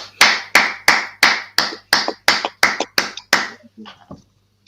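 About ten sharp hand claps ring out in a steady, slightly quickening rhythm, loud and close, before trailing off into a few faint softer taps.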